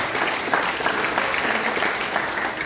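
A church congregation applauding loudly during a service, continuous dense clapping from many people, steady and moderately strong throughout with no talk over it.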